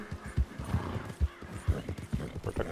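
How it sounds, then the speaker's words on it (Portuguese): A horse in a video game snorts and whinnies as a warning of a nearby predator, its hooves clip-clopping in a steady, moderately close rhythm over faint background ambience. "Então o próprio cavalo já te avisa já."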